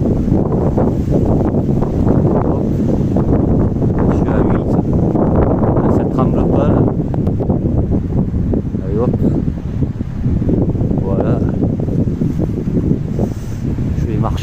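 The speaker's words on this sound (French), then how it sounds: "il y a trop de vent aujourd'hui" Strong outdoor wind buffets the microphone in continuous loud rumbling gusts, with a person talking through the noise.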